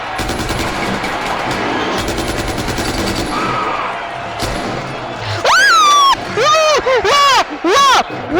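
Gunfire from a weapon in the shooter game Far Cry 4 crackles in loud rapid bursts of automatic fire, followed by sharp whistling, sweeping in-game effects and a final cluster of loud, clipped blasts.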